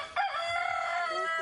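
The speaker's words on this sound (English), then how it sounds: "At the first cockcrow," A rooster crows at dawn, a single sustained call close and loud, with no other sounds around it.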